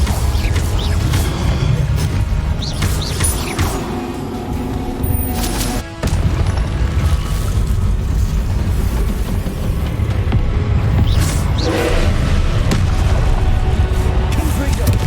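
Confringo fire spells in Hogwarts Legacy burst into repeated booming explosions amid a steady din of combat effects, continuing loudly throughout with a short gap midway.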